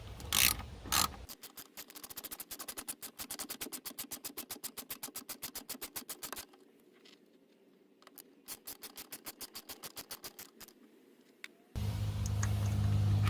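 A 10 millimeter ratchet wrench removes a nut, giving long runs of rapid, close clicking that pause and resume, followed by a brief louder thud at the end.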